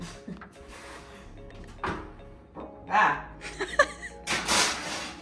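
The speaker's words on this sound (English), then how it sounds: "we are putting that in the oven until it is done" A baking tray holding sweet potato slides into a home oven and the door thumps shut, amid clattering kitchen handling under a voice talking and light laughter.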